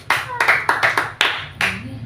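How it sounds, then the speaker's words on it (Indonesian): Church congregation clapping hands during a sermon, a series of sharp, loud, irregular claps in quick bursts with short gaps, close and reverberant, a low hum underneath. "Tepuk tangan."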